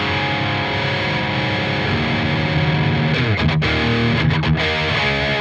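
Heavily distorted electric guitar played through a Mesa/Boogie Triple Crown 50 amp head, sustained chords and riffing at a loud, steady level with a few choppy, muted stabs near the end.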